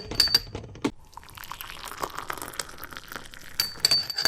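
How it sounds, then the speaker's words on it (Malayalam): Glass clinks sharply, then Zamzam water pours with a gentle splashing trickle into a glass, ending with another bright clink of glassware nearby. "സംസം വെള്ളം ഒഴിക്കുന്നു ഗ്ലാസ്സിലേക്ക്"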